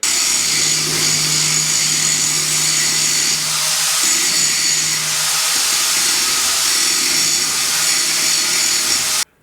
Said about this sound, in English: I can actually put a bit of strength into grinding down that giant blob of weld that I made